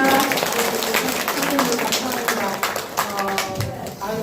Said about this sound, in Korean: 다시 한번 더 좀 열심히 하시라고 박수를 올려드리면 되겠습니다